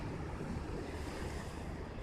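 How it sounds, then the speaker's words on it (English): Ocean waves at Isle of Palms beach on an overcast day, a continuous broad roar of surf mixed with wind rushing across the microphone, steady and fairly loud. "we got some actually fairly decent waves today"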